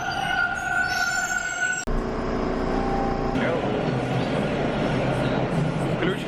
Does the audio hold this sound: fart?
no